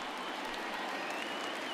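A home crowd at a baseball stadium in MLB The Show 20 cheers and applauds after a home run, a steady, dense wash of clapping and crowd noise.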